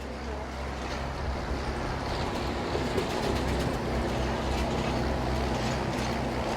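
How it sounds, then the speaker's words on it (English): A tractor drives past at a speedway, giving a continuous low engine rumble that swells slightly louder partway through, with no clear speech over it. "I guess I'll wait a minute for this tractor to go"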